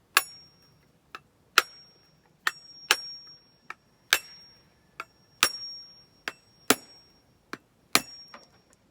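A coconut struck repeatedly with the back of a knife, sharp hard knocks in an irregular rhythm, about a dozen close, crisp blows, some with short rattling decays.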